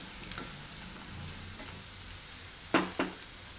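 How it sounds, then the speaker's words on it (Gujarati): Carrots and other vegetables sizzle in hot oil in a pan for Gujarati dahi pava, a steady close frying hiss throughout, with a couple of sharp stirring clicks near the end. "થોડીક વાર આને આપણે પકવા દઈશું આમાં તેલમાં, તેલમાં શાકભાજી પાકી જાય ત્યાં સુધી"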